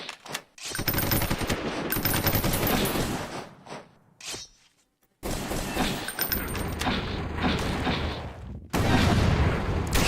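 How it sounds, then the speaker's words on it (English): Video game combat in Roblox: loud rolling bursts of heavy gunfire and explosive booms, broken by a short near-silent pause midway before the barrage resumes, no talking. "And he's got artillery. It's a mortar."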